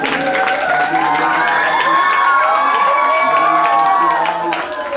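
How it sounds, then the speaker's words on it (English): A school expo audience cheers and shouts loudly and continuously, with children's voices prominent in a sustained, dense roar of crowd noise. "a big round of applause to the teachers and the team who have done such a great job"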